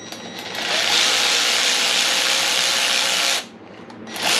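A power tool runs up engine bolts on a Subaru long block, a loud steady whirring burst of about three seconds, a short pause, then it starts again, no talk.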